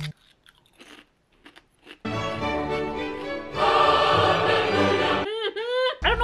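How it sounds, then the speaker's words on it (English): A snack chip bitten and crunched near the mouth: a sharp crisp bite, then loud sustained crunching and chewing, followed by a few clicking mouth sounds, with no talk over it. "Look at that crunch."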